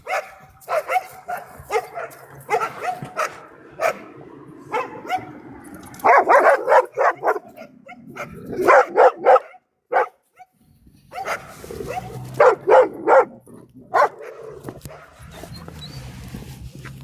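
Puppies barking in short yappy bursts and clusters, interspersed with whimpers and quiet gaps, fairly close, with a faint low voice underneath at times.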